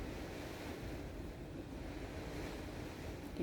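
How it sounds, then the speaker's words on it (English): Steady rain drumming on the roof of a van parked by the ocean, a dense continuous wash of patter blended with surf and wind, even and close with no talking. "Yeah, the rain on the van."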